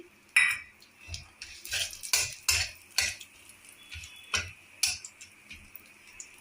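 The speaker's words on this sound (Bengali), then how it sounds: "এই তেলে এই ঘিয়ে আমি এই যে তেজপাতা, কয়েক পিস ছোটো এলাচ, লবঙ্গ, এক টুকরো দারচিনি দিয়ে দিচ্ছি" Bay leaf, green cardamom, cloves and a piece of cinnamon dropped into hot ghee, heard as light clinks of a utensil and small taps against the pan at irregular intervals, fairly quiet with no talk.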